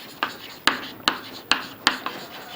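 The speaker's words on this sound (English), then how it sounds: "So let me write this." Chalk or marker taps and scratches on a board during a physics class: five crisp strokes in a steady rhythm, each with a short scraping tail, close and clear without voices.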